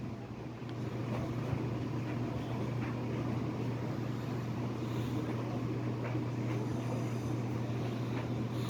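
A Westinghouse all-metal two-speed box fan running on high gives a steady, moderate whir with a constant low hum, unchanging throughout.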